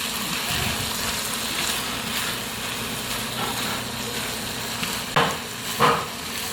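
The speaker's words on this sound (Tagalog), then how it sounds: "hahaluin lang natin siya para pantay-pantay ang pagkalambot niya mamaya" Pork liver bopis stirred in a frying pan, a steady close sizzle with soft scraping of the spoon and a couple of sharper clinks near the end, with no talking.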